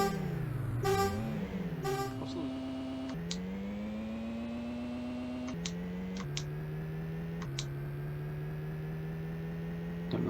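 A synthesized engine drone from the Amiga racing game Lotus Esprit Turbo Challenge, emulated on a Raspberry Pi 400, hums steadily and shifts pitch in steps as the car changes gear, with a few short electronic blips over it.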